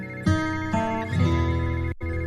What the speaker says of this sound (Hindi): विमला के फोन पर उसकी बहन की बहू का फोन आता है।